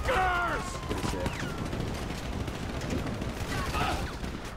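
Gunfire in the game GTA V during a shootout, with a burst of shots near the start and another toward the end, set against continuous noisy combat ambience with faint ricochet-like whines.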